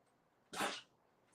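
A single sharp sneeze bursts out near the middle, brief and fairly loud against a quiet room.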